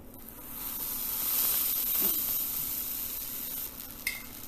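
A buttered potato cheese sandwich sizzling on a grill pan, butter side down, giving a steady, close, broadband frying hiss with a faint tap or scrape near the end.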